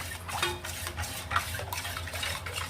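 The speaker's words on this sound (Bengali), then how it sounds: "পরোটার জন্য ময়দা, জল আর নুন আর একটু হালকা একটু তেল ছিটে দিয়েছি, সাদা তেলে 1 চামচে দিয়ে দিয়েছি, দিয়ে আমি গুলছি।" A utensil stirs and whisks a thin paratha batter of flour, water, salt and a spoonful of white oil in a bowl, giving soft repeated scraping and sloshing strokes at close range against steady low kitchen hum.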